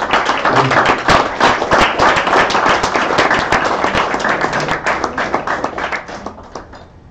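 An audience at a mining awards ceremony claps steadily for a winning team, dense applause of many hands sustained throughout before thinning slightly at the end.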